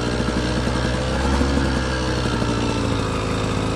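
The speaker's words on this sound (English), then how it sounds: "If you hear my bike, it's riding a lot of RPMs." Beta dirt bike engine revving at high RPM while riding through muddy woods, a steady close buzzing drone held throughout with slight swells in pitch and no talk.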